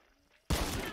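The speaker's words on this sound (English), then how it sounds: "A shot." A single loud gunshot in a video game shooter cracks out abruptly halfway through after near silence, with a sustained noisy tail.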